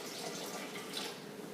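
Water pours steadily into a sourdough bread mix of flour, a continuous soft splashing stream at close range with no talk over it.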